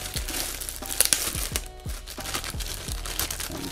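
Plastic wrapping crinkles and crackles as it is pulled off an EnGenius ESR530 mesh router, with close, busy rustling and a few sharp snaps throughout.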